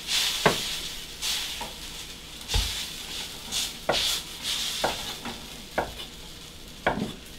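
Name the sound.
noodle pancake frying in oil for chow mein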